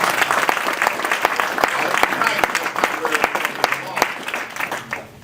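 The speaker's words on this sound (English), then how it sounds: "That deserves a round of applause." Audience applause at a fatherhood policy symposium, steady dense clapping from a crowd that swells and holds for several seconds before gradually fading out.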